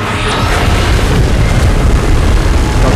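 Deep, loud explosion and beam blast from a monster in the video game PUBG, a continuous heavy rumbling boom sustained for about three seconds with no talk over it.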